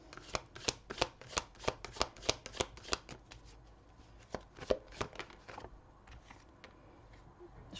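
Tarot cards are shuffled for a reading, with a run of soft, rhythmic riffling and slapping bursts at a close, quiet level, slowing into more scattered flicks toward the end.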